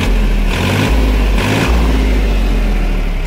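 A Mahindra OJA 2130 tractor engine runs loud and close with a steady low diesel thrum, briefly rising twice in quick revs before settling back to an even idle; no speech.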